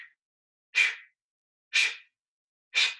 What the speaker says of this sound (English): Breathe out through the mouth strongly to blow this imaginary flame out.